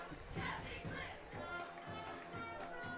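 Crowd noise at a rainy high school football game, USJ versus ECS, with cheerleaders working to energize the stands; a steady, fairly distant murmur and cheering wash runs throughout without a clear peak.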